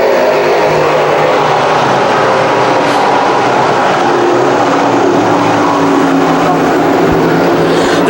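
Sportsman race cars roaring off the start at Can-Am Speedway, a loud, dense, continuous wall of engine noise from a full field accelerating together, steady throughout with no voices.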